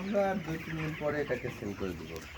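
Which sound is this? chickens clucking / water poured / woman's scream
chickens clucking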